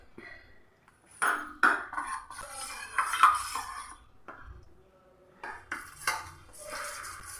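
A spoon stirs custard powder in a bowl, with quick clinks and scrapes against the sides in short bursts and brief pauses in between.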